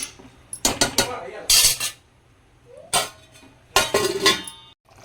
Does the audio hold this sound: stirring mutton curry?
yes